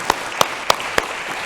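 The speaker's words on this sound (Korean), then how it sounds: "우리 영광의 박수 한번 올리겠습니다." Clapping in a Korean church service comes as four evenly spaced, distinct claps over a soft background of scattered hand noise, moderately close.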